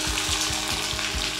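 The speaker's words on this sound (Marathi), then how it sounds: "सो तेल गरम केलेलं आहे, त्यामध्ये सगळ्यात आधी जाईल जिरं. जिरं मस्त फुललं की बारीक चिरलेला कांदा," Cumin seeds and finely chopped onion fry in hot oil, a steady close sizzle with soft crackle and faint stirring scrapes, no talk.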